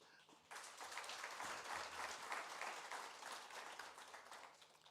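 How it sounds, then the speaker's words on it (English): Dense audience applause at a TV white space project launch, starting abruptly after half a second and holding steady and full, then tapering slightly toward the end. "we need to applaud you for that."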